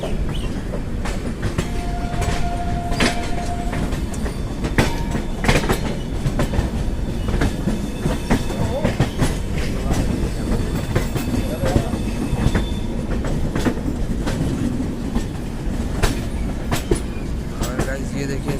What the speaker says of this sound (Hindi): गाइस हम लोग स्किप कर रहे हैं न्यू दिल्ली रेलवे स्टेशन और सामने खड़ी है न्यू दिल्ली प्रयागराज एक्सप्रेस